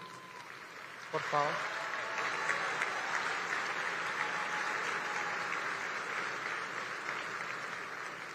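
An audience at a national forum at Tecnológico de Monterrey bursts into sustained applause after a short spoken line, the clapping staying dense and steady to the end.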